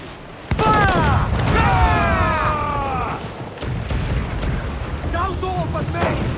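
Ship cannons firing during a naval battle in the video game Assassin's Creed Black Flag: a sudden loud boom followed by a sustained roar of broadband blasts, with shouted voices and tonal crew cries layered over the fighting.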